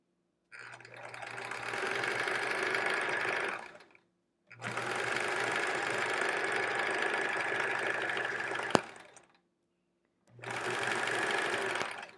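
Domestic sewing machine stitching a Triangle Tango quilt, running in three steady bursts of a few seconds each with short silent pauses between, close and moderately loud.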